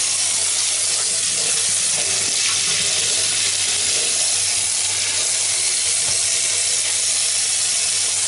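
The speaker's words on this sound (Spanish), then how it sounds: "Yo ahora pongo agua caliente." Hot water runs from a kitchen tap into a sink, a steady loud rushing hiss that holds evenly throughout with a faint low hum beneath.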